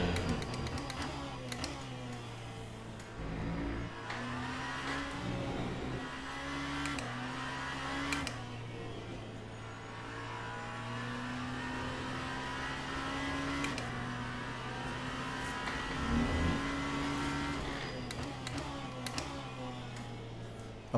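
The Genesis hypercar laps a track in Le Mans Ultimate, its engine droning steadily with pitch rising and falling through gear changes, braking and acceleration, close and continuous for the whole lap segment.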